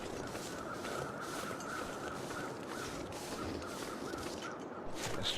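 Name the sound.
crows cawing in video game The Long Dark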